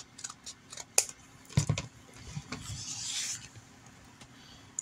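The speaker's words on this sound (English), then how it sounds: "I'm just trimming off all the edges here." Scissors trimming the edges of a handmade dollhouse miniature fireplace piece, with close, crisp snips and light rubbing scrapes over a few seconds, no voices.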